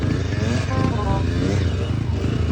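A Kawasaki KX85 dirt bike engine revs hard while churning through mud, a loud, steady buzzing roar held close for a couple of seconds.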